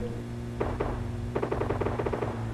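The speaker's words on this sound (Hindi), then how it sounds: "गोली चला रहा था बंदा" Gunfire in the mobile shooter PUBG Lite, heard as a couple of quick shots followed by a faster automatic burst, fairly faint over a steady game background hum.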